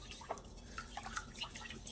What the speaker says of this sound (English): All right, we'll get some more water in there. We'll wash it a second time.